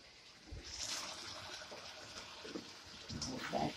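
Tap water running over vegetables being rinsed in a home kitchen while cooking vegetarian fried rice, a steady splashing flow that swells after the first half second and continues, with light clatter toward the end.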